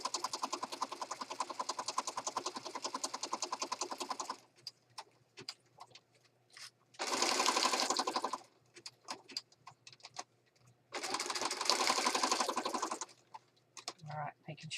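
A sewing machine stitches down the corner of a horse-themed paper journal page, its rapid steady whirring running in two close, loud bursts of a few seconds each, separated by quieter handling sounds and brief speech.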